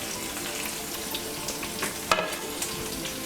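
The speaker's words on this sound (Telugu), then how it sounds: "ఇవి బ్రౌన్ కలర్ వచ్చే వరకు ఫ్రై చేసుకుందాం." Dried red chillies and curry leaves frying in hot oil in a pan, a continuous close crackling sizzle with a few sharper pops and stirring scrapes.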